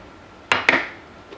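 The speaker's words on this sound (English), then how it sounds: "And I'm gonna give this a good stir." A spoon knocks and clinks twice against a pot of game day chili while it is stirred, two sharp close hits that fade into quiet; no speech.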